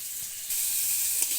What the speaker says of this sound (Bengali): এই তেলে আলুটি দিয়ে দেব।